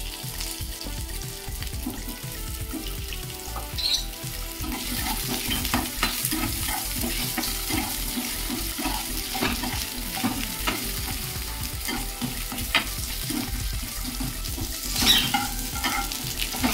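Cut potatoes fry in a pan for a light tangra fish curry with potato and eggplant. A continuous close sizzle and crackle of hot oil carries on throughout, with intermittent scraping and stirring and no voices.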